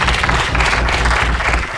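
Applause from the audience at a child participation consultative meeting, steady dense clapping throughout at close range, rising and falling slightly in waves without a break.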